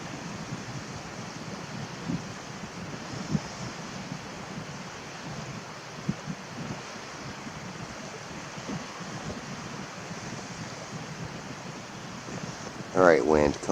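Steady wind buffets the microphone at a coastline near a disused lighthouse, a continuous low rushing roar with surf-like texture, ending with a brief louder gust.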